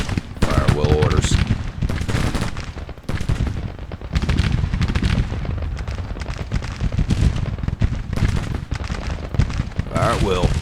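Civil War musket and artillery fire in Grand Tactician: The Civil War, a dense crackling barrage of overlapping shots and booms that runs loud and continuous, with a spoken voice briefly over it.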